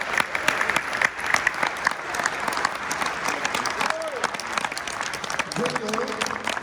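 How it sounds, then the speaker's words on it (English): An audience at a men's conference applauds a military veteran, steady sustained clapping throughout with voices and brief vocal sounds mixed in under the applause. "Round of applause for his service."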